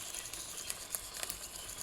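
Chopped tomato and green chili frying in a pan, a faint steady sizzle with a few light scrapes as they are stirred, no voices.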